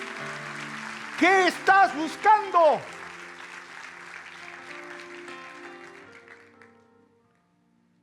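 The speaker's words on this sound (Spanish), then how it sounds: "Denle un fuerte aplauso a Dios por eso." A church congregation applauds in a broad, steady wash of clapping that slowly fades out, while a voice speaks and sings briefly over it.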